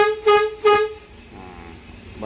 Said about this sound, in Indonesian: klakson 3 kali